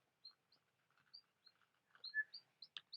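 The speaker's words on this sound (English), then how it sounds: "That bird is really making some great sounds, huh?" Small bird chirping in short, high tweets scattered across a few seconds, near and fairly soft, with a brisker burst of calls at the end; no voices.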